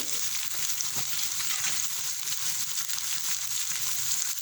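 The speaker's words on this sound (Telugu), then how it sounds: "పచ్చిమిరపకాయలు వేగుతున్నాయి కదండి, అప్పుడు మనం తురిమి పెట్టుకున్న మామిడికాయ తురిమినంతటిని వేసేసుకోవాలి" Grated raw mango goes into green chilies and ginger frying in a pan for raw mango pulihora, a steady moderate sizzling hiss, close and continuous throughout.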